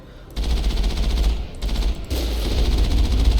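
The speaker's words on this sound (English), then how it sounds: "And it can also fire shots." Rapid rifle gunfire from the Mass Effect video game, a dense continuous burst of shots with two brief pauses, loud and close throughout.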